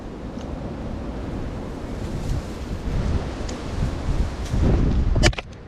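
Wind gusts through an outdoor vegetable garden, a steady broadband rush that swells louder toward the end, capped by a brief sharp rattle as something falls nearby; no one speaks.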